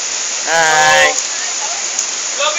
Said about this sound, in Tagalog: Loving the rain. Lumakas pa.